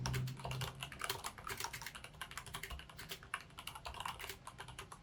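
Rapid, steady keystrokes clatter on a gaming keyboard, a continuous close-up run of clicky typing with no voices.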